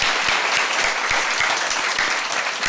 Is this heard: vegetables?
no